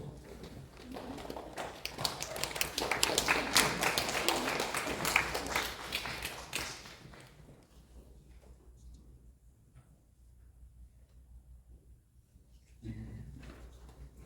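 A church congregation gives a big round of applause, loud dense clapping close by for about seven seconds before fading to a quiet room with a soft knock near the end.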